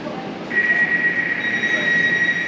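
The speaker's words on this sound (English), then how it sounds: "once this train departs" An Elizabeth Line train pulling out of a London station, a low rumble with a sustained high-pitched whine that starts partway through and holds steady, no voices over it.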